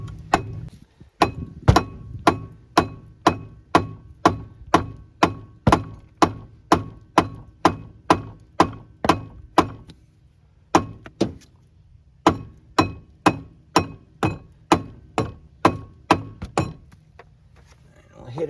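A rubber mallet strikes the brake rotor of a 2002 Pontiac Grand Am in a long run of sharp, evenly spaced blows, loud and close, with a brief pause midway before the hits resume.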